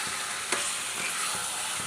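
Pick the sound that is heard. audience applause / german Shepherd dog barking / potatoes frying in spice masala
potatoes frying in spice masala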